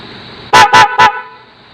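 Three loud, sharp honks from an aftermarket loud horn replacing a car's stock horn, in quick succession, each cutting off cleanly, with a low engine hum underneath.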